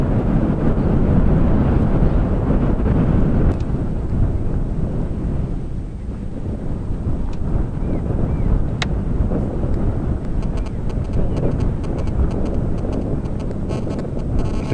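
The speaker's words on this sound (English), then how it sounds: "It's another windy day here in the Sabi Sands." Strong wind buffets the microphone in a constant low rumble during a safari drive at Djuma Game Reserve in the Sabi Sands, gusting throughout with faint faraway sounds underneath.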